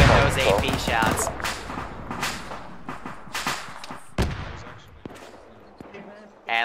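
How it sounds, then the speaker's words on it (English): A T-14 tank firing armor-piercing rounds in Arma 3, heavy booming shots and sharp cracks spaced a second or so apart amid scattered gunfire, fairly loud, with talk over the top. "And that T-14 immediately destroys it with those AP shots"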